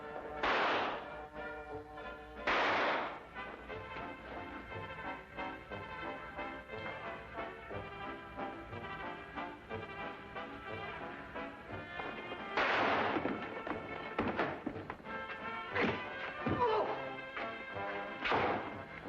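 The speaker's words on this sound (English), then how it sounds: "Fire it, Holmes. Fire it!" A gunshot rings out in a Sherlock Holmes radio drama set around a night train, a few sharp loud bangs standing out against steady orchestral music and sound effects, with no talking during the shots.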